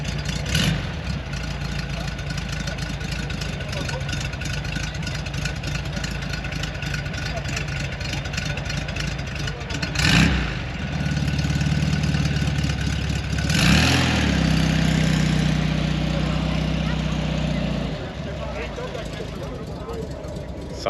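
A vintage car's steady engine idle rumbles low and continuous throughout at an oldtimer festival, with a couple of brief revs and people talking nearby over the running motor.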